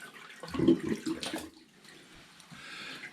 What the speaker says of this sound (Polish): Więc ja po prostu wypuszczę wodę z umywalki